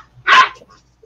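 A single short puppy bark or yip, close and fairly loud, standing alone with faint background noise around it.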